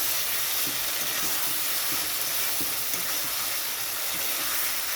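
Giant prawns sauté in a pan with a steady, even sizzle and hiss that carries on without a break.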